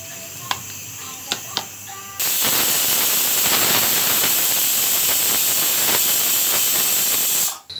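A pressure cooker cooking mushroom biryani gives a loud, continuous steam-release hiss for several seconds, ending abruptly, after a few quieter clinks and taps.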